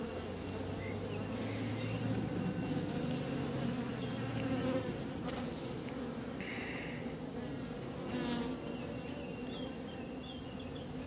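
Honeybees buzz steadily around an open divisible hive, a dense droning hum with individual bees passing close now and then, continuous throughout with no talking.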